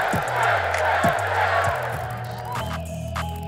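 Stadium crowd chants and roaring reactions from the Madden 25 football video game, a dense, loud wash of many voices with rhythmic low thumps under it, building into a brighter swell near the end.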